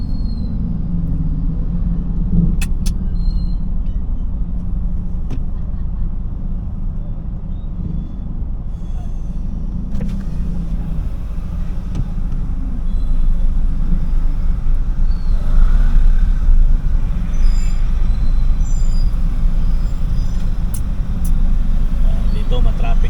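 Steady road traffic in Rizal with an e-trike passing close by, a constant low rumble of engines and tires that swells slightly mid-way, with voices talking over it.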